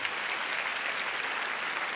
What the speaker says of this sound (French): Applaudissez-moi l'assistant,